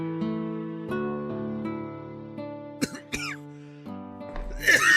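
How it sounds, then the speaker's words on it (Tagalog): Several harsh coughs cut through a soft melodic music bed, followed by a rough throat-clearing burst at the end. "Mukhang masama na yung ubo mo ah"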